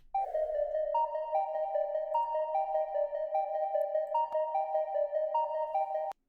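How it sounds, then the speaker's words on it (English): A bright synth pluck plays a simple repeating melody of short tonal notes, clean and steady, with no other sounds around it. "So next I have this pluck."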